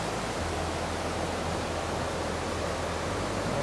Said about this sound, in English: I'm here on the Toccoa River in Blue Ridge, Tennessee